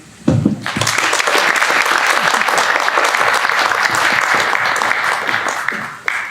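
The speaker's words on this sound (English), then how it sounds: "I would like us to give a round of applause to Kathy for being an EMT." An audience at a talk breaks into a loud round of applause. Dense clapping starts sharply, holds steady for several seconds, then tapers off near the end.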